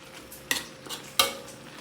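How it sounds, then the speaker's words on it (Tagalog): A utensil stirs shrimp and jackfruit around a cooking pan, with a light sizzle under it and two sharp scraping clacks against the pan, close and without talk. "Halu-haluin natin yan bago natin ilagay ang gata."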